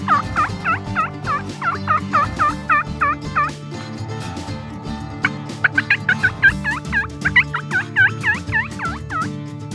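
Wild turkey toms and hens gobble loudly and close by, a string of rapid rattling gobbles followed after a pause by another overlapping flurry of calls.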